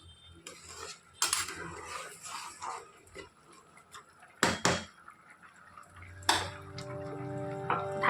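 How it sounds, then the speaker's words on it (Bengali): Utensil scraping and clinking against a cooking pot while lentil dal with potato is stirred on the stove, several sharp metallic knocks separated by softer scraping, close and fairly quiet, with no talk. "একবার নাড়াচাড়া করে নেব ভালোভাবে।"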